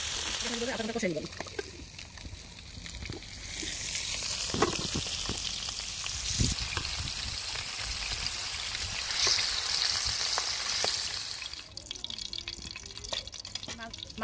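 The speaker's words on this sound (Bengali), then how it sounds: "মাছ ভাজার তেলে রসুনটা দিয়ে ফেলছি আমি" Garlic dropped into hot oil left over from frying fish gives a steady, close sizzle with brief splashy crackles, while a person talks over it through most of the stretch.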